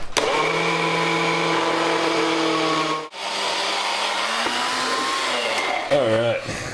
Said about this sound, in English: I'm just going to powder some in the blendini here